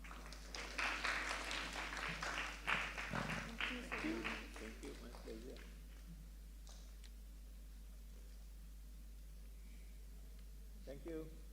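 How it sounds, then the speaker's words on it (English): Audience applause for the rector at a university education forum, a burst of clapping over the first five seconds that fades out, with a brief voice near the end. "All right, give a round of applause to our beloved rector."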